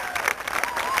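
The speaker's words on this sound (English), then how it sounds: "Ladies and gentlemen, a huge round of applause for this time." Audience applause and cheering at a hypnotist show in 1989, a loud burst of clapping and crowd noise with a voice carrying over it.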